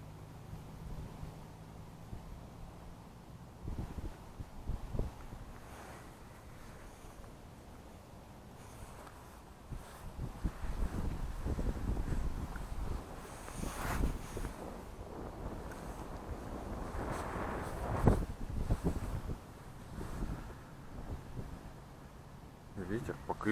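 Strong gusting wind buffets the microphone outdoors while fishing with a micro-jig in a city, low rumbling bursts swelling and fading throughout, with someone speaking at times.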